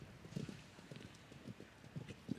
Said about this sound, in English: This horse covers a lot of ground. Big galloping horse.